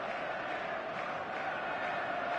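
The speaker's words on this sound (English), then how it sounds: "There's a real expectant buzz in the stadium" Stadium crowd noise from the football video game eFootball 2026 rolls on as a constant, dense murmur of many voices, moderately quiet and unbroken with no distinct cheers.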